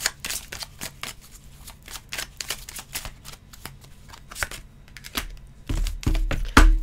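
Tarot cards being shuffled and drawn at a reading, a run of crisp, quick riffling and slapping card sounds close to the listener, with a few heavier thumps toward the end.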